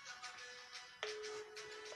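A telephone rings with an electronic tone, two short tonal bursts, faint and close, with no talking.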